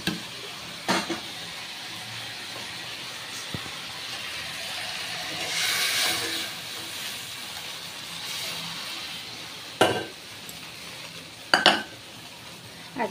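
Dal for a tomato lentil dish is poured into a hot cooking pot, giving a soft rushing hiss in the middle, surrounded by quiet kitchen clatter and a few sharp clinks of utensils.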